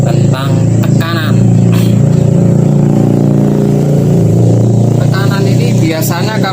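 A motorcycle engine with zero compression keeps running at a loud, steady idle close by, while someone talks over it.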